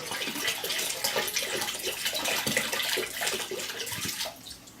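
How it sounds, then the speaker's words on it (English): Home-brewed Irish stout running into a bottle during bottling, a steady gushing, splashing pour of liquid that stays loud and continuous before tapering off near the end. "I'll try filling up a bottle first"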